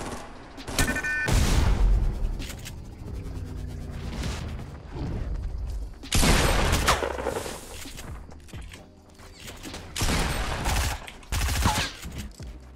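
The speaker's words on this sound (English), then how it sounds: "Just gonna shoot that." Video game gunfire in heavy bursts: loud, dense volleys at the start, middle and end, separated by quieter stretches, with no talk over the shooting.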